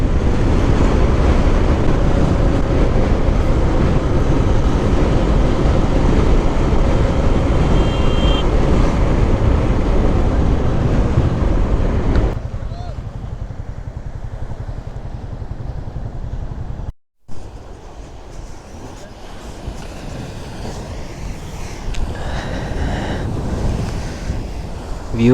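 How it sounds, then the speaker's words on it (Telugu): Surf and waves along the Konaseema coast in East Godavari, washing up to the road: a loud, steady roar of breaking water with heavy wind buffeting the microphone, easing to a softer wash partway through after a brief dropout. "వాటర్ అయితే రోడ్ దాకా వస్తున్నాయి ఇక్కడ"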